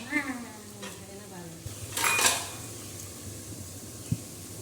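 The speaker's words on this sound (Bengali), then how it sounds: "ভালো করে নাড়াচাড়া করছি, যাতে পটলের মধ্যে ময় মশলাগুলো খুব সুন্দরভাবে ঢুকে যায়" Spiced pointed gourd being stirred in a pan for a mutton bhuna with potatoes, with a soft sizzle and a brief loud scraping burst near the middle, plus a single knock later on.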